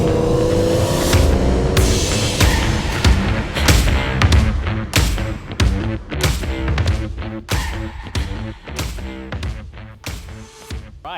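Aston Martin V12 Vantage with its 700bhp V12 engine driven hard on a circuit, loud and near, revving in repeated surges with sharp gearshift breaks and thuds between bursts.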